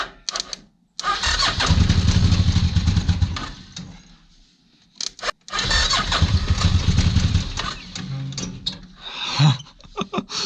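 A Suzuki VX800 motorcycle engine powering a go kart buggy revs loudly and steadily, cuts out briefly, then roars again as the clutch is let out, with a few sputters near the end.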